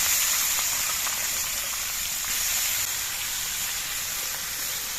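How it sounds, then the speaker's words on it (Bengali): Taro pieces dropped into hot oil with cumin and green chili make a continuous, even sizzling hiss, fairly close and steady throughout, with no voices. "জিরা কাঁচা লঙ্কাটা ভাজা হয়ে যাওয়ার পর এর মধ্যে আমি কচুগুলো দিয়ে দিচ্ছি"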